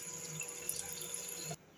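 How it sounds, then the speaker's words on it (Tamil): Tamarind water being poured from a vessel into a large cooking pot, a faint, steady liquid splash and trickle that cuts off abruptly near the end. "இப்போ புளி தண்ணி விடலாம்."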